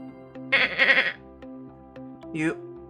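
A video game goat bleats loudly in a quavering cry, followed by a second shorter bleat, over steady electronic background music.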